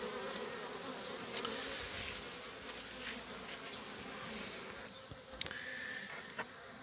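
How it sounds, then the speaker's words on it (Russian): Grey German Buckfast honey bees humming in a small nucleus colony at an apiary late in the sunflower season, a steady dense buzz close by with individual bees droning past now and then. "Такой отводочек жужжит."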